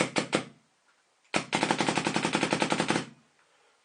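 A paintball gun with a regulator fires outdoors: two quick separate shots, a pause, then a rapid burst of about a dozen sharp pops in steady rhythm, fairly close.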